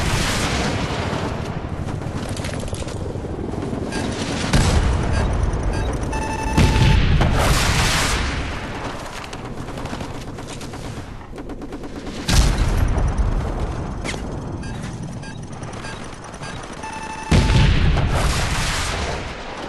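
Heavy booming blasts from grenades going off in Modern Warfare Remastered, several loud explosions spaced several seconds apart, each rolling out over a constant backdrop of gunfire and battle noise.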